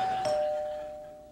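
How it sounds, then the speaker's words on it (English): A single doorbell chime in a late-night comedy studio, a clear sustained ding that fades slowly over about a second. "Oh, it's the bell."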